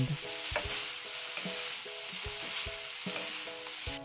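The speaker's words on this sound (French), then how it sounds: "J'ajoute finalement les crevettes et je remue pendant 30 secondes" Shrimp being stirred into frying nasi goreng rice in a pan, with a steady sizzle broken by repeated spatula scrapes and knocks in an uneven rhythm, close and fairly loud, no talking.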